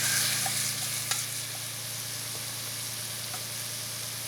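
A metal spoon stirs and scrapes food inside a cast-iron camp Dutch oven at a campsite, with a steady frying sizzle underneath and a few light metallic clinks and scrapes, close and alone.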